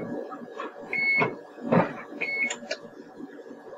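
A kitchen oven gives a few short electronic beeps as it is set to 400 degrees, clear tones sounding close over faint room noise and light talk.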